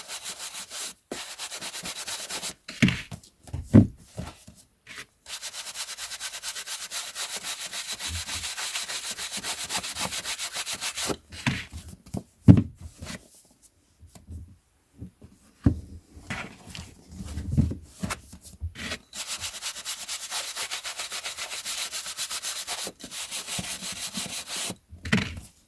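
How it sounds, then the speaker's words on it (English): Brush strokes sweep and rub across collectible TV and film tie-in items while they are dusted, steady close scratchy bristle sound in long passes broken by short pauses and a few light knocks as items are handled. "we'll just give these a bit of a brush off, as is tradition, because they didn't need too much work"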